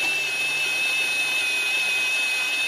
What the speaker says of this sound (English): put my drill into reverse, and I go slow backwards